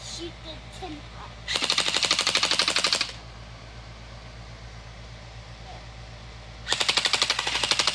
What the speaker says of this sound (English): Now I'm gonna shoot the tin pot.